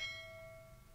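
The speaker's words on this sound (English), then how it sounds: "I like that bell sound." A single bell rings during a church sermon, holding a clear, steady tone that fades slowly over a second with no talk over it.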